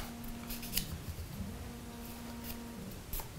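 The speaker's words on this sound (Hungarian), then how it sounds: "ilyen apróra kell metélni a papírt" Scissors snip paper into small pieces, giving a run of crisp, close cuts in short bursts over a quiet room with a faint steady hum.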